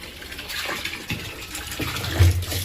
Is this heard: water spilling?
yes